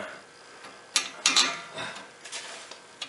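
A wrench tightens a 19mm strut-to-knuckle bolt on the rear suspension of a Ford Contour, giving a few quiet, quick metallic ratcheting clicks and taps.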